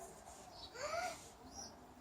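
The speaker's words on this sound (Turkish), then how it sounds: "Evet bu yavru kuş." A pigeon chick that fell down a chimney gives a single faint rising peep near the middle, with near silence on either side.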